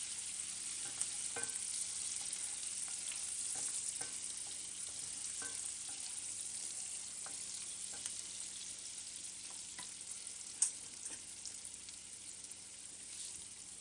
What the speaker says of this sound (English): going to add a little onions and garlic to this nice little oil here.